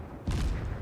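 A single heavy warship gun salvo in a naval battle game, a short deep boom with a rumbling tail, loud and close, heard alone.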